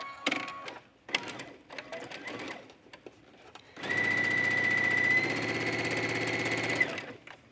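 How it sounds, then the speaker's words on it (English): A sewing machine runs steadily for a few seconds of zigzag stitching, a fast mechanical whir after some quieter handling sounds. "I'm going to run this through the sewing machine using a zigzag stitch."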